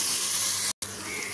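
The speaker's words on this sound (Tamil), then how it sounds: "இப்போ இந்த எண்ணெயிலே கொஞ்சம் இஞ்சி பூண்டு பேஸ்ட்டும் இந்த சில்லி பேஸ்ட்டும் நல்லா வதக்கிக்கலாம்." Ginger garlic paste and chili paste sizzling in hot oil for a chicken biryani, a steady loud hiss that cuts out briefly and then resumes, with no voices.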